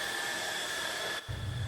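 A cordless stick vacuum cleaner powers on with an abrupt shift at about 1.2 seconds, its steady whine joined by a strong low motor hum that keeps running loud and close.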